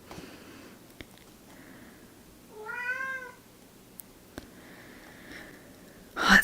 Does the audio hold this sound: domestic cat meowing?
yes